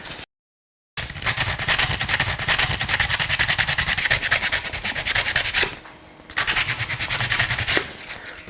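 P120 sandpaper rubbing over a clipper blade from an Andis T-Outliner trimmer, a steady rapid scratchy back-and-forth rasp, close and loud, with one short pause midway.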